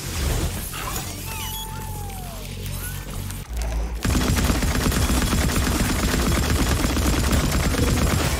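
Rapid gunfire from enemies in Atomic Heart rattles and crackles continuously, growing louder and denser halfway through amid shattering impacts and game noise.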